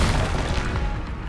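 A Confringo blasting spell explodes in the video game Hogwarts Legacy, a loud, dense burst of booming noise that fills the whole brief moment and fades slightly toward the end, with no voices.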